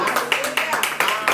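A church congregation applauds during a Sunday celebration service, a steady run of rhythmic clapping pulses at moderate distance, with voices mixed underneath.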